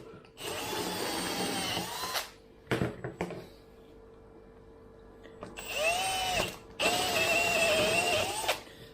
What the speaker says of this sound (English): now I'm going to drill 2 25mm holes, one on each side